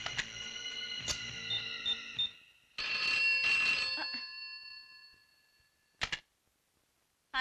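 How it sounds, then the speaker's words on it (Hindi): A telephone rings for a call to a hospital: two long electronic bell rings a moment apart, then a short final burst before silence, clear and fairly close with no talk. "दांडेकर साहब, तनिक अस्पताल में फोनवा तो करके देखिए, बलराज राणा जिंदा भी है कि"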